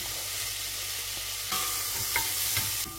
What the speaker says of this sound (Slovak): Už slanina pustila tuk, hodíš cibulu,